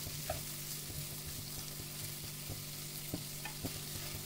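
Tomatoes and masala for egg kothu dosa sauté in a pan, a faint, even sizzle over a low steady hum, with a few soft spoon taps and scrapes scattered through.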